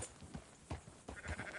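Sheep bleat faintly in Red Dead Redemption 2, a few short bleats spread across a quiet outdoor ranch scene.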